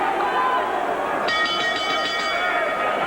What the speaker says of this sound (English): The bell for round 8.